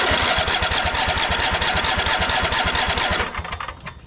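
Craftsman T240 riding mower engine cranking and trying to start: a fast, even chugging of the starter, loud and close for about three seconds, then the cranking stops and fades out, with no voices.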